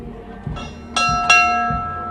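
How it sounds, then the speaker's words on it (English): A bell rings out a few times with bright, lingering metallic tones, struck at uneven intervals over a low background rumble, at the 2023 Oklahoma City Memorial Marathon. "there's not one person just going up there and ringing the bell"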